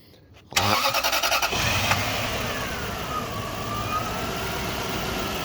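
A 1998 Lexus LX470 engine cranks briefly and catches, then settles into a smooth, steady idle with a faint whining tone running over it, heard close and clear with no talking.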